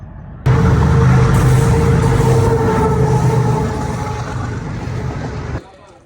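A train approaches near a roadside market, a loud, steady rumble with a sustained horn-like tone that holds for several seconds and then eases off and cuts out.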